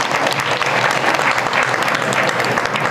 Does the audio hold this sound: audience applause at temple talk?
yes